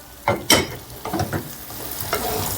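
Sausages drop into a hot pan with onion, garlic, salt, pepper and coriander, giving sharp loud sizzling bursts at the start, then several stirring scrapes and a steady crackling fry, close and without talk.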